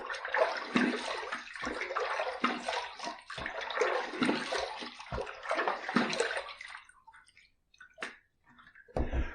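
Running water splashes steadily as a face is rinsed after a shave, a close, continuous wash with small breaks and separate splashes before it thins out near the end.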